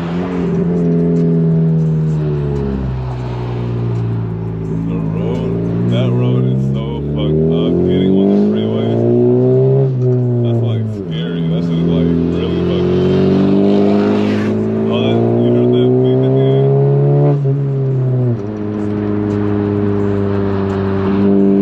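A loud Honda Civic Si engine cruising through LA streets, its drone rising and falling through repeated gear pulls and shifts, heard up close from inside over a long continuous stretch.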